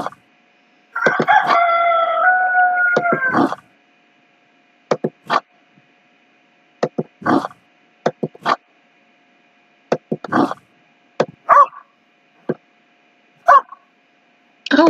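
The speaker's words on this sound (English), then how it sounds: "this game barks as much as the neighbor's dog" Dog barks in the Country Life Meadows farm video game, a dozen or so short sharp barks in an irregular series, loud and close, after a long rooster crow at the start.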